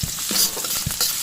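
Garlic sautéing in oily pan for beef adobo: a brief, close, continuous sizzle with a few soft stirring knocks, no talking.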